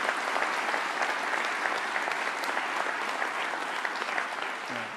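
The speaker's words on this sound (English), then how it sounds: "So let's give her a round of applause, because she's a part of a great team." Steady audience applause at a county cabinet meeting, a continuous dense patter of many hands clapping that tails off slightly at the end.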